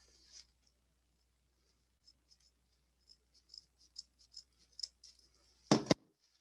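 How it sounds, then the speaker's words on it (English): Scissors snip through ribbon on an angle while a holiday swag is made, a series of small quiet crisp clicks ending in one sharper, louder cut. "And take your scissors and cut this on an angle."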